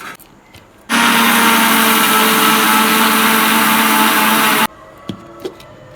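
A mixie grinder powders roasted black rice with cardamom and dry ginger, a loud steady whir that starts abruptly, runs for several seconds and cuts off, with quiet clinks afterward.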